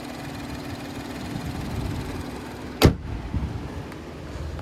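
A 2023 Nissan Rogue SL's 1.5-liter VC turbocharged three-cylinder engine idles with a low, even hum, interrupted by one sharp thump near the middle.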